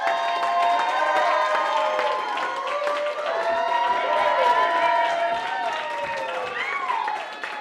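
Crowd applause and cheering at an election night speech in Albuquerque, a dense, steady wash of clapping with shouts and whoops running throughout, loud and sustained with voices mixed in.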